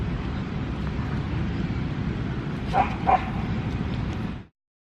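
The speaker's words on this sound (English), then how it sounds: "there are some super fluffy dogs over there" Fluffy dogs in a park give two quick barks in the distance, over a steady outdoor hum of background noise.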